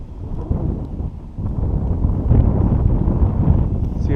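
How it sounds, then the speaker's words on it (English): Wind gusting across a winter RC flying field, a steady low rumble of buffeting against the microphone that swells noticeably around the midpoint and stays strong to the end, with no talking. "Have a gust coming"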